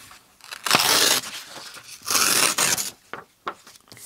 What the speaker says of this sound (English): I'm literally going to fold them in half and tear them in half